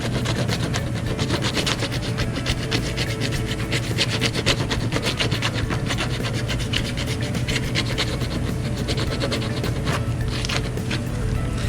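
Rotary grinder roughing up the surface of a plastic tab before a repair, a steady continuous abrasive rasp and whir running at even loudness throughout, close and without pauses.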